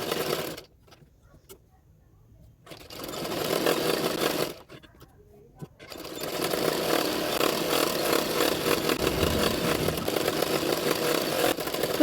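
A sewing machine stitches along the edge of blouse lining fabric, its motor whirring in loud runs broken by two short silent pauses.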